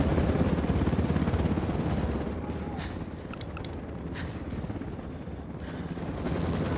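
A helicopter in the video game Ghost Recon Wildlands, a loud steady rotor rumble filling the whole stretch, easing slightly midway and swelling again toward the end.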